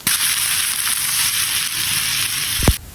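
Vinegar splashed into pork frying in a pan, a loud, bright continuous sizzle and crackle running throughout, ending with a brief clatter.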